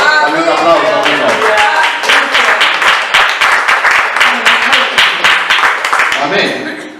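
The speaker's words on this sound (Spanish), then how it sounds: "Dame un aplauso, Señor." A church congregation claps along in a steady, rhythmic beat during a Sunday sermon, loud and close, with voices mixed in throughout.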